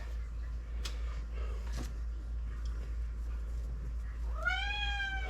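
A cat gives a single clear, rising meow near the end, heard over a steady low hum with faint clicks and shuffling earlier on.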